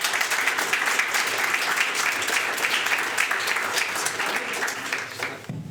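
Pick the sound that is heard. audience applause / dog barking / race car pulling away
audience applause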